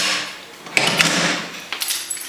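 A remote-controlled door lock engages with a few sharp mechanical clicks and a short whirring rattle, close up and fairly quiet, with no talking.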